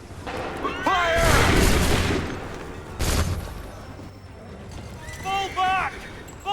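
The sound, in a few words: musket volley firing in the video game Assassin's Creed III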